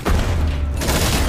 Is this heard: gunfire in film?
yes